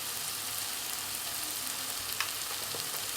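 Tomatoes sautéing in a pan for a Kerala-style egg roast, a steady soft sizzle with a couple of faint utensil clicks, close and without talk.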